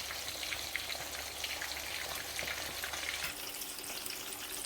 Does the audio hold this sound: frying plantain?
yes